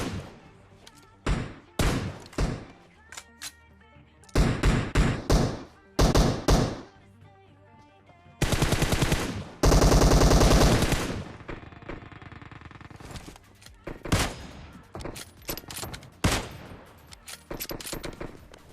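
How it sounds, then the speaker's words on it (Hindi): M4 rifle gunfire in PUBG, with repeated sharp bursts and short tap-fire volleys, some long sustained strings of automatic shots, separated by brief pauses across the whole stretch. "अपना किल सेव करने के चक्कर में यहाँ पर मैंने अपनी M4 की सारी एमो खत्म कर डाली"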